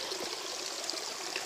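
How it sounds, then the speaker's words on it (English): A small water source right beside a hiking trail on the Vermont Long Trail trickles in a steady, soft, even wash of flowing water with no voices. "Right on the trail, get us a neat little water source"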